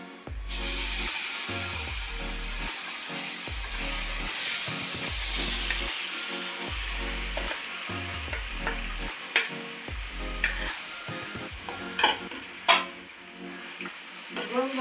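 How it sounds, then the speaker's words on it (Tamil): Gongura chutney sautés with tempering in a pan, with a continuous sizzle and repeated scraping stirs in a steady rhythm, then sharper scattered clicks and clatter toward the end. "தாளிச்சு நல்லா கோங்குரா சட்னி வதக்கியாச்சு"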